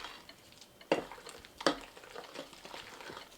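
Eggs being mixed into Christmas cake batter in a bowl: soft wet stirring with two sharper knocks of a utensil against the bowl, close and quiet, with no talking.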